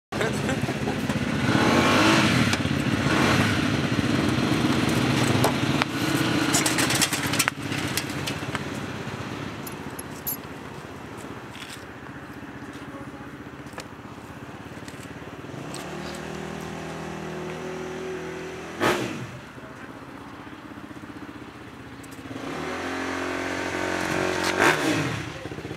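A Honda CR500AF motorcycle engine runs loud and close after long disuse, revving hard early then settling to a rough steady idle with a sharp blip near the end, under occasional talk.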